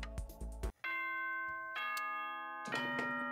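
A doorbell chime from the Danganronpa: Trigger Happy Havoc video game rings clearly, a loud two-tone ding-dong repeated in several bright sustained bell strikes after a short burst of sound.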